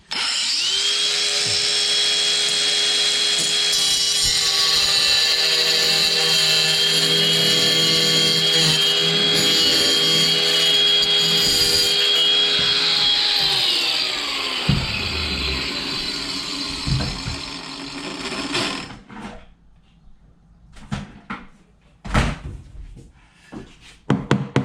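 An angle grinder cuts into a wall to enlarge an outlet opening, a loud, steady, close whine held for about fourteen seconds before it spins down, followed by scattered scraping and handling knocks.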